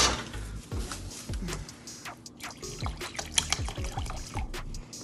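Water being poured into a batch of white glue for a fifty-fifty mix, with a soft trickling pour and a few drips and knocks close by, no talking.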